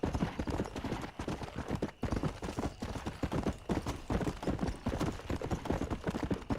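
Horse hooves clip-clop in a steady, dense trot throughout Red Dead Redemption gameplay, loud and continuous with faint voices underneath.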